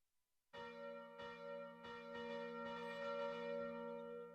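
Bell rung inside the block-building game Minetest: after a short silence, a clear resonant toll starts, and several further strikes follow in an uneven rhythm, each layering over the long ringing sustain.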